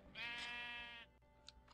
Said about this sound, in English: I'm starting to get some of my sheep coming in